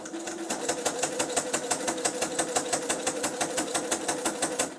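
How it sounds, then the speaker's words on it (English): A sewing machine zigzag-stitches strips of batting, running at a fast, even pace with a crisp, regular clatter of needle strokes throughout, close and clear, with no talking. "So begin to zigzag stitch, keeping your strips very, very, very straight as they go through."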